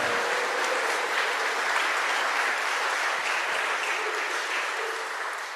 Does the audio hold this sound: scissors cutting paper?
no